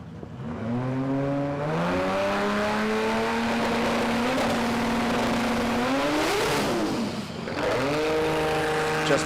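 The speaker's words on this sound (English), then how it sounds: "That big boosted Barra not happy on the leave, hassling the tyres off the back" A boosted Barra-engined radial drag racing car lays into its rear tyres off the line. The engine revs climb with hitches as the tyres lose grip, then it drops away briefly and surges again, loud and close.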